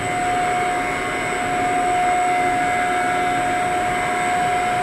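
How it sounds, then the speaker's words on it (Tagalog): Chiller motors in the mechanical department of the Al Ula airport power plant run with a loud, unbroken droning hum and a steady high whine on top, unchanging throughout. "Ito po yung mga motor sa chiller."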